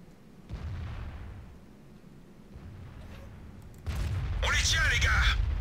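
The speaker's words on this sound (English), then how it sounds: "There's 2-3 artillery launching this place as well." Artillery fire in the tank game World of Tanks: deep, rumbling booms build into a louder, sustained roar of battle noise over the last couple of seconds, with a voice speaking over parts of it.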